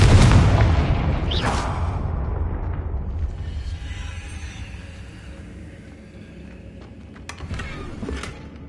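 Confringo spell explosion in the video game Hogwarts Legacy: a loud, heavy boom at the start with a sharp crackling burst, fading into a long rumbling tail, followed by softer magical whooshes near the end.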